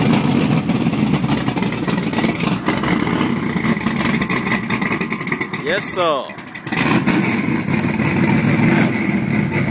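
A short-bed Chevrolet Silverado pickup's loud engine rumbles and revs steadily up close, dipping briefly midway before roaring back, with a short spoken reply over it.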